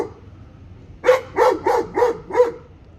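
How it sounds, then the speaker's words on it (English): Dogs bark near a news photographer: after a second of quiet, five loud, evenly spaced barks come in a steady rhythm, fairly close, with no speech over them. "These dogs could shut up, you'd hear me."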